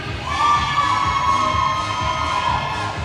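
Roller derby fans cheer for the Red Deer team in an arena, a loud sustained crowd roar with high shouts and whoops that swells quickly and holds steady for about three seconds.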